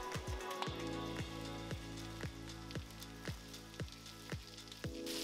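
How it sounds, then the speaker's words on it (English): Carrots fry in butter with salt and pepper in a hot pan, giving a steady, soft sizzle that runs the whole time beneath a regular, rhythmic ticking pulse. "put in some butter, put in my carrots, put in some salt and pepper, and let them cook."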